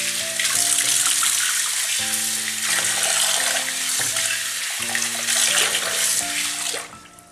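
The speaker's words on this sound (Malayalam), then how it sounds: "ഇനി ഇത് വെള്ളം ഒഴിച്ചിട്ട് കഴുകിയെടുക്കാം." Running water from a tap pours steadily over a mullan fish being washed, a close, continuous splashing gush with faint clatter and shifting flow until it tapers off near the end.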